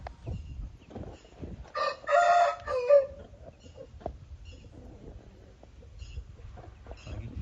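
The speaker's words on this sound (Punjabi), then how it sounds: "ਇਹ ਚੜੇ ਮੋਢਿਆਂ ਦੀ ਮੁਰਗੀ ਹੈ" A hen with raised shoulders crows loudly once, a long strained call, with scattered soft clucks and farmyard rustling before and after.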